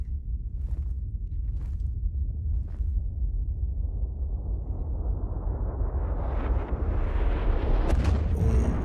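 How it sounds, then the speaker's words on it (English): A rumbling blast in a zombie video game builds from a low roar into a loud, widening burst, with no voices over it. "Surely not everyone died in that explosion"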